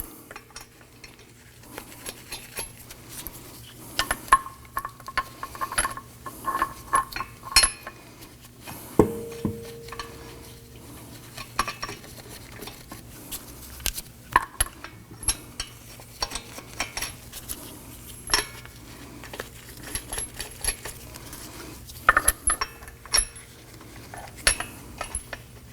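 Lug nuts being threaded by hand onto a Toyota Camry front wheel, a series of quiet metallic clicks, jingles and scrapes scattered irregularly over a low background hum.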